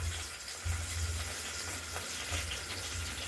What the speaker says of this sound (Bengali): এইটা একটু ভাজা ভাজা করে নেব মশলাটাকে